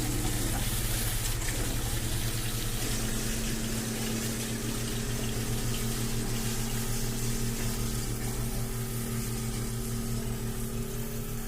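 Water running down a newly built-out trailer sink drain during a leak test, a steady rushing flow with a low humming pump drone underneath, constant and close with no talk.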